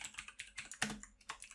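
Rapid keystrokes on a computer keyboard while code is typed, a quick uneven run of close, crisp clicks with one heavier key press near the middle, heard alone without speech.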